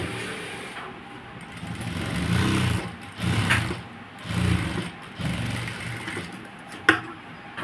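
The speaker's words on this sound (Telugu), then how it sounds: "ఇలా వేసేసి ఇప్పుడు మళ్ళీ పైనుంచి కుట్టు అనేది వేసుకోవాలి." A sewing machine runs in several bursts of fast, steady stitching along a cloth border, with short pauses between runs, fairly quiet and close, and a small knock near the end.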